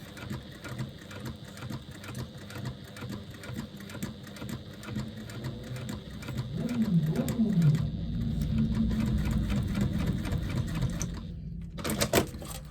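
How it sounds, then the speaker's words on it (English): A sewing machine runs steadily while base stitching down the side seam of a woven lambda bag at an eighth-inch allowance, a continuous close mechanical whir that swells in the middle and stops near the end. "we're going to just base stitch down the other side"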